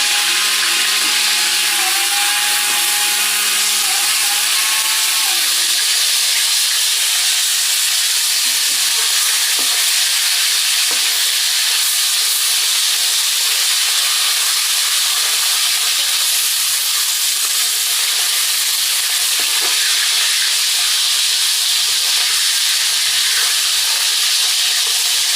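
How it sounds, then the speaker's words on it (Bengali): Fish fries in a wok on a stove, giving a loud, continuous bright sizzle and hiss that runs unbroken and close, with a faint low tone early on and no talk. "আমি এখন ভাজতে দিয়ে দেবো। চুলার উপর কড়াই দিয়ে দিছি।"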